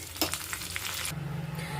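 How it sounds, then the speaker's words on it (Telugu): Mustard seeds and cumin sizzling in hot oil in a pan, a brief faint crackle and hiss with a few small pops, heard alone. "అదే ప్యాన్లోకి కొంచెం ఆయిల్ వేసుకున్నానండి ఆవాలు జీలకర్ర వేసుకుంటున్నాను"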